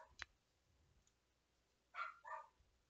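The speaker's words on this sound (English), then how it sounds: "And you can probably hear the Ricky barking in the background." Faint dog barks sound in the background of the horror game Anatidaephobia Out of Milk: a couple of soft, distant yaps close together amid near silence and a few small clicks.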